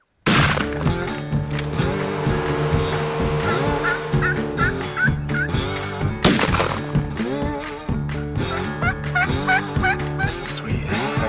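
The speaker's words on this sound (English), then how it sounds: "No shortage of gobblers." Wild turkeys gobble repeatedly in a spring hunting valley, loud rattling gobbles coming in bursts one after another, with a turkey call in the mix and no talk.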